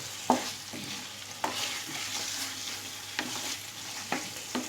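Mutton curry, oily and cooked down, is stirred in a pan after nutmeg powder goes in: a low sizzle under several distinct spoon scrapes spaced a second or so apart, close and moderate.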